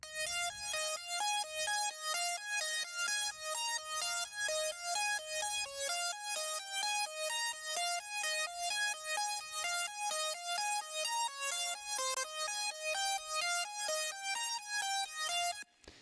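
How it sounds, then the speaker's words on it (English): A bright, thin EDM synth lead plays a quick repeating pattern of short plucky notes, steady and rhythmic throughout, fairly quiet and alone. "let's hear what the lead sounds like on its own"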